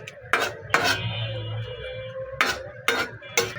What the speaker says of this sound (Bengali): এই যে এগুলোর মধ্যে মশলাগুলো ঢেলে দিলাম। এখন নেড়ে মিশিয়ে নেব